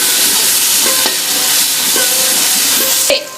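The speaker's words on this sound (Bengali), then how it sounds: "এবার এটা একটু ভালো করে নাড়িয়ে নেব।" A spoon stirs cumin and coriander powder into a sizzling chicken curry in a pan, with steady loud frying hiss and occasional scraping strokes throughout.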